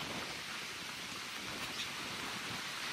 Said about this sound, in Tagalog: Ayan, nag-uulan. Inabot po kami ulan.